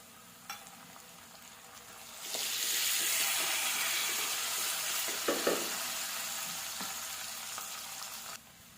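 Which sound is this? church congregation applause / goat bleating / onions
onions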